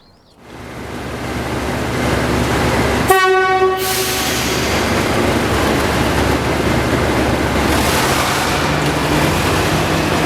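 A Class 37 diesel locomotive hauls a passenger train out of Stoke, its engine rumbling loudly and steadily, broken by one sharp two-tone horn blast early on as the train pulls away close by.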